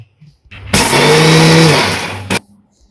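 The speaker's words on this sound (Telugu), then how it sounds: "అందుకని ఒకసారి మిక్సీ పట్టుకుంటున్నాను అంతే" A mixer grinder whirs loudly for about one and a half seconds as it powders sugar in a large jar, starting abruptly and cutting off after a short second burst, with faint sounds before and after.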